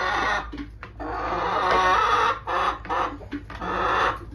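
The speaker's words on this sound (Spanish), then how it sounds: "Ella está cacareando" A laying hen clucks in agitated, uneven bursts, loud and close, with short pauses between the calls.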